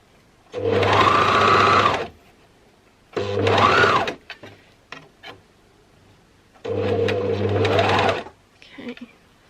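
A sewing machine stitches a stretch neckband onto a dress, running in three loud, steady bursts of about one to two seconds each, with short pauses and faint handling sounds between runs.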